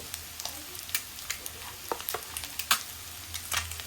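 Ginger garlic paste, freshly ground, frying and being stirred in a pan, giving a steady low sizzle broken by scattered sharp crackles and spatters, close and fairly quiet with no talking.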